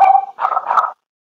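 A pet dog gives a short high yelp followed by two quick barks, close and loud, then silence.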